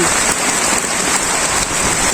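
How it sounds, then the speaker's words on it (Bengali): Steady, dense rain pouring down on a surface, a continuous hiss with no voices, loud and close throughout. "বৃষ্টি"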